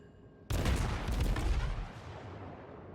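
The Atlanta cruiser in World of Warships fires a sudden, loud barrage of shell salvos that roars on for over a second and then fades into a lingering rumble.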